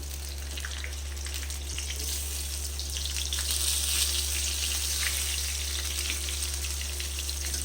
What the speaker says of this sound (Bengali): আমি লোহার কড়াই বসিয়ে সর্ষের তেল দিয়েছি ওই তেলের মধ্যে আমি বেগুনগুলোকে ভেজে নেব